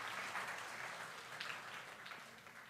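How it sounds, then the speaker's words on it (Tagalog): A church congregation claps during a sermon, a soft, distant patter of many hands that continues evenly and fades slightly toward the end, with no one talking over it. "Sige, palakpak mo yan sa Panginoon."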